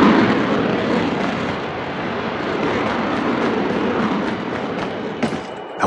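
In Call of Duty Mobile battle royale, an airdrop plane roars overhead as a loud, broad, sustained rush of engine noise. It stays steady for several seconds, then a sharp thump lands near the end.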